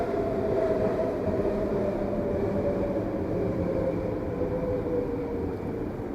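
A train rolls past with a continuous, steady low rumble and droning hum that stays loud and close for the whole stretch, no voices.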